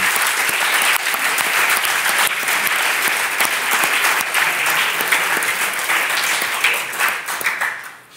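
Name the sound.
council applauding election of president by acclamation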